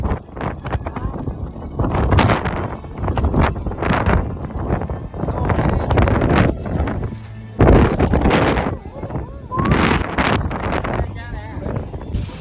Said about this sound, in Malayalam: നല്ല കാറ്റും ചെറിയ രീതിയിലുള്ള മഴയൊക്കെ ഉണ്ടായിരുന്നു കേട്ടോ